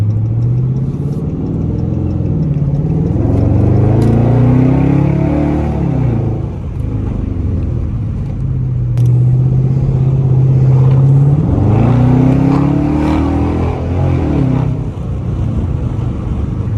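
A stock Dodge Charger Daytona R/T engine rumbles deeply while driving, its pitch rising and falling through repeated accelerations and gear changes, loud and close.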